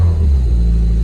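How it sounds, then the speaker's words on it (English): A Toyota MR2 SW20 engine gives a deep, loud, steady rumble as the gas pedal is pushed, the low drone holding level over a brief second without a clear rise in pitch. "Let's see if the RPM still hangs after pushing the gas pedal."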